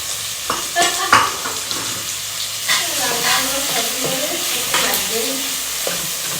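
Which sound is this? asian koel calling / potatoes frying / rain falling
potatoes frying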